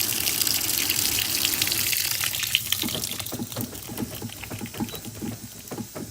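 Water pours steadily into a high-efficiency washing machine with a manual water level setting, turned up to level 4, a continuous rushing flow with patter and splashing, close and fairly loud, easing slightly midway.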